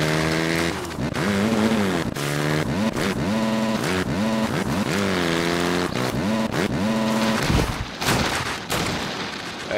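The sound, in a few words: dirt bike engine in video game MX vs ATV Reflex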